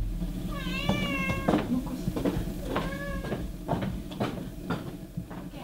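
A cat meows twice, clear and fairly close, at a remote house on a mountainside about 400 meters up, with a low steady background rumble and soft knocks around it.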